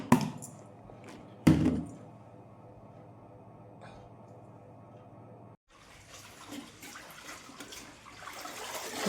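Municipal tap water splashing in a steady hiss while raw vegetables are cut, with two sharp chopping knocks early on and the water rushing more loudly toward the end, no voices.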